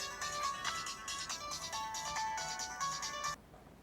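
A mobile phone ringtone plays a repeating melodic ring for an incoming call, clear and fairly faint, cycling several times before cutting off abruptly near the end.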